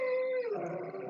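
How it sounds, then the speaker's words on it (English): A dog gives a sustained, fairly loud howl lasting about a second, with a steady tone that drops slightly in pitch midway and continues without talk. "that's my dog"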